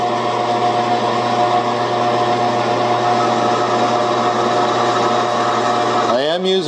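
A metal lathe runs with a carbide cutter on a large cutting attachment, a loud steady whirring hum with a constant tonal drone, shifting in pitch just before the end.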